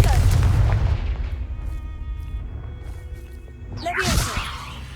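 A Confringo fire spell blasts in Hogwarts Legacy: a loud, low booming burst at the start, followed by a rumbling tail, with a second whooshing flare near the end.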